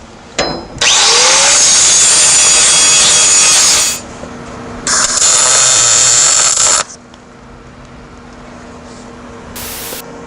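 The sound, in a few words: grinding galvanizing off steel lockbox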